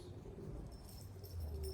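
Pigeons coo softly in a loft, low murmuring calls repeating steadily against a faint background hum, with no talk.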